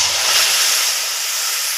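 Spice paste of tomato, green chilli, ginger, garlic and cumin sizzles in a pan over already-fried onions for a home-style fish roe dish, a steady close hiss with no break.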